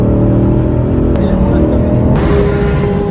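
A Ford Mustang Dark Horse runs laps during a busy track day, its engine droning loud and steady throughout with a slight shift in pitch partway through, recorded from inside the car.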